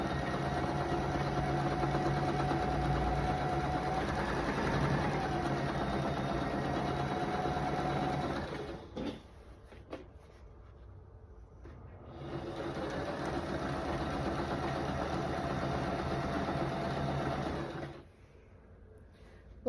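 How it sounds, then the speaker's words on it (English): Sewing machine stitching a quarter inch seam to attach sashing on a quilt: a steady, close mechanical whir that runs for several seconds, stops briefly, then resumes before stopping again. "So I'm just going to sew a 1/4 inch seam down this line and attach this sashing."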